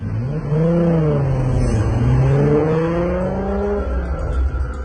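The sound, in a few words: Dodge Charger and Toyota Supra racing in film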